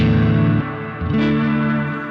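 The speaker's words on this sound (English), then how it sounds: "I can filter the reverb, and there's a lot of reverb happening if I want" A guitar played through a Milkman The Amp Stereo amplifier swells in lush, washed-out reverb and distortion, with sustained chordal tones that dip briefly and then bloom again in a loud ambient texture.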